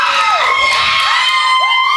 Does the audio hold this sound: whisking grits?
no